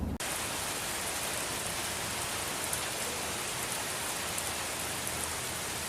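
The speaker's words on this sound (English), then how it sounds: "And even more rain." Steady, dense rain falling on a surface, a constant hiss that continues unbroken throughout.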